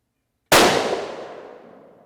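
A single sharp rifle shot from a Remington 700 BDL Varmint Special in .223 Rem, loaded with 24.5 grains of IMR 8208 XBR, cracks loudly and close after a moment of silence, then decays in a long fading echo.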